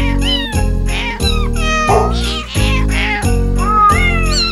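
A Christmas song sung in a string of rhythmic, pitched meows, one after another in a tune-like pattern, loud and close with musical backing underneath.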